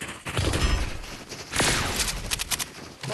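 Rapid gunfire from a Fortnite match crackles in dense, overlapping bursts with sharp individual shots, loud and continuous throughout with no talking.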